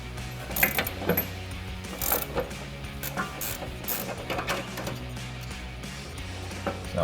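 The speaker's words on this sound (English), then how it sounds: "Now I've got my ratcheting wrench to be loosening and my ratchet to be" A ratcheting wrench and ratchet work a 10mm nut off a sway bar end link on a 2011-2019 rear-wheel-drive Charger, giving a close run of repeated clicking ratchet strokes with no talking.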